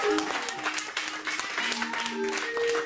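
A church congregation applauds during worship, with dense continuous clapping under and around a leader's voice and sustained musical tones.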